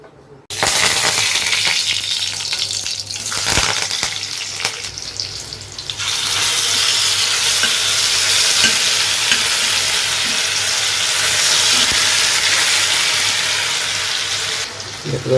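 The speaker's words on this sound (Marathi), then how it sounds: "इकडे आपले हे खेकडे आहेत तर यांना मस्त आता फोडणी देऊ आणि मस्त खेकडा मसाला बनवू आजचा" Crabs hit hot oil in a tempering for crab masala, spiced with a paste of turmeric, red chilli, ginger, garlic and coriander. After a brief quiet start, a loud continuous sizzle and crackle carries on close by, with occasional stirring.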